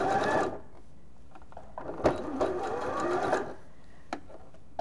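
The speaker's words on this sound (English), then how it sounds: "As I encounter the curve of the shape, I slow down and then I just pivot the fabric ever so lightly." A sewing machine stitches fabric around a curve in short, stop-start bursts, slowing and pausing as the fabric pivots, with light mechanical clicks between runs, close and clear.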